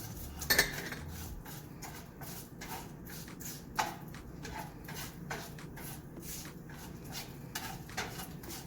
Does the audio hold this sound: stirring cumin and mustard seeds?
yes